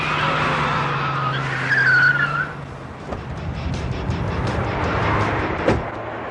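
A car pulling over to the roadside with a brief tire skid and engine rumble, followed by a couple of sharp clunks like doors or braking, close and fairly loud.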